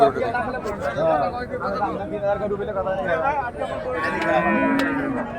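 Cattle low and moo with drawn-out calls amid crowd chatter and people talking nearby, a busy outdoor cattle market scene at Raniganj market, Ghoraghat.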